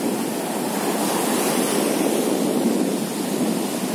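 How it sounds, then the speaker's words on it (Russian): Sea waves wash onto the beach at Golubitskaya, a continuous rushing roar of surf mixed with wind, steady and close with no voices. "Это вот сейчас, кажется, вроде небольшие волны"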